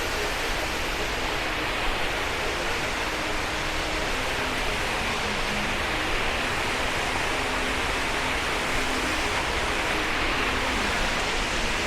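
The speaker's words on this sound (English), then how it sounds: "And let's go down to the waterfall." A waterfall near Ubud, Bali roars as a steady, loud, unbroken wash of falling water that stays close and constant throughout, with no voices.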